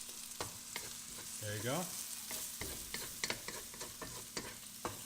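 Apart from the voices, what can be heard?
scrambled egg stir-fried with garlic and onions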